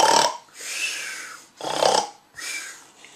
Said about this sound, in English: he won't stop snoring like a hippo